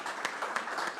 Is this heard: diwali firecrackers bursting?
no